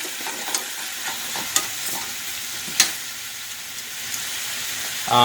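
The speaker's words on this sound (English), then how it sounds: "Get some nice color on our turkey neck here." A turkey neck browns in a pan over medium heat, giving a steady close sizzle with a few sharp scrapes and clicks of stirring.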